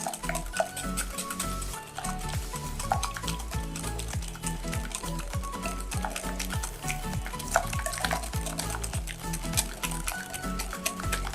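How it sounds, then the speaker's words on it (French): Eggs and sugar whisked by hand in a bowl, a steady run of close stirring and clinking strokes against the bowl. "Vous mélangez vos œufs et votre sucre."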